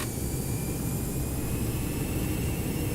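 Airbus jet engines in X-Plane 11 hold a steady, loud roar with a faint high whine while spooling to takeoff power, heard alone without voices.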